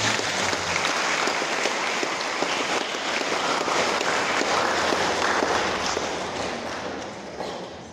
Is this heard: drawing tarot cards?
no